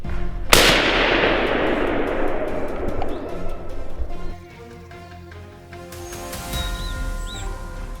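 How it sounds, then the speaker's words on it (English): A single sharp rifle shot cracks out in a forest during a wild boar hunt, loud and close, with a long decaying echo. Birds coo and call nearby as the woods settle. "A sharp gunshot rang through the forest"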